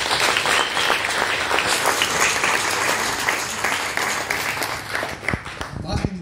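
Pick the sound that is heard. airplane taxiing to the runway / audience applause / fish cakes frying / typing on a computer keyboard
audience applause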